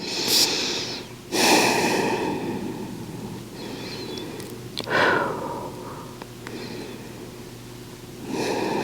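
Slow, deep breaths during a kneeling yoga pose with the crown of the head lowered to the floor: a few long inhales and exhales, each a close, soft rush of air separated by quiet pauses.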